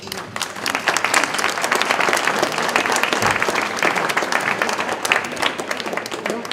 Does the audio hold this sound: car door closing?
no